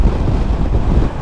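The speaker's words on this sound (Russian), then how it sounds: "Да, ветер сегодня такой прям сдувает с дороги." Strong wind buffets the microphone while coasting downhill on a JT50 motorcycle with the clutch not pulled in, a loud steady low roar and rumble with no voices.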